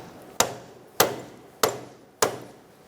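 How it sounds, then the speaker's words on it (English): Four sharp metallic hammer strikes drive a CV axle into its spline on a 2004-2009 Mazda 3, landing at an even pace, each a hard clang with a short ringing decay, close and without talk. "Now we're going to hammer our axle on once it's engaged in the spline."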